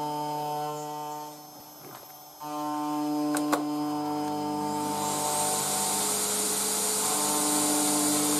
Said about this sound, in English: The vacuum cleaner is by far the noisiest part of this whole thing.